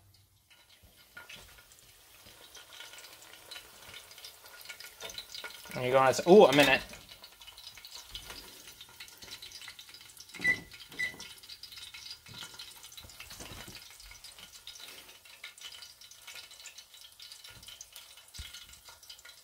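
A frozen burrito fries in hot avocado oil with a low, steady sizzle and occasional louder spatters as it is turned, while a person talks over the cooking.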